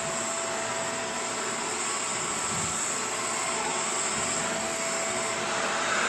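A Shark Rotator Powered Lift-Away vacuum cleaner runs on a couch, a loud, steady, close whine and rushing suction roar that holds unbroken throughout, with no talking.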